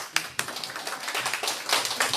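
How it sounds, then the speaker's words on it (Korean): An audience claps at a live promotional broadcast for walnut liqueur, a brief burst of fairly close hand claps with a few sharp individual slaps standing out, and no voices. "박수 쳐주세요."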